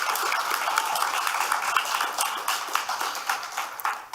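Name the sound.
audience applause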